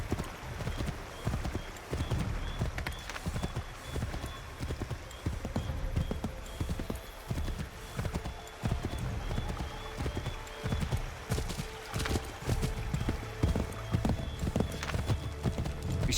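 Horse hooves clip-clop steadily through a colonial-era outdoor scene in Assassin's Creed 3, with an occasional whinny amid ambient game sounds, loud and continuous throughout.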